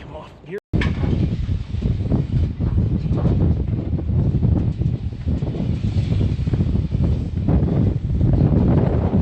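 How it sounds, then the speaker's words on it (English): Wind buffets a microphone outdoors at a silo demolition prep site, a loud, continuous low roar with gusty swells lasting throughout after a brief gap at the start, with faint speech underneath. "Oh, it's kind of windy."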